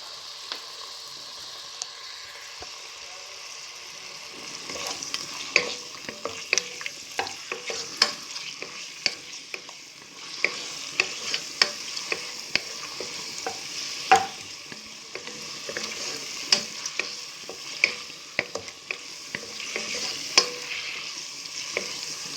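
Rice frying in oil in a pan, a continuous close sizzle broken by frequent sharp clicks and scrapes from stirring, with no voices.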